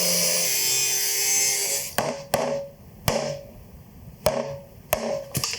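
Loud sawing on a part for a custom motorcycle bash plate for a Honda Transalp, a continuous cutting rasp that stops, followed by several sharp knocks and taps.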